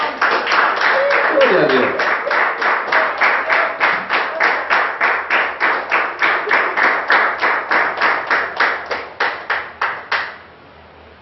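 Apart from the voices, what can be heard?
applause, clapping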